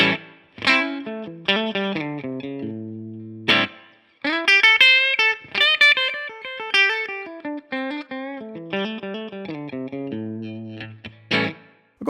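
Electric guitar on the bridge pickup through a Tonex capture of a Boogie California Tweed 6V6 amp, 1 watt setting and low input, plays a melodic run of clear picked notes and short phrases with pauses, loud and close, without talk.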